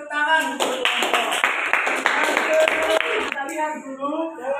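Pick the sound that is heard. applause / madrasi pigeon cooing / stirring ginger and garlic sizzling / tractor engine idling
applause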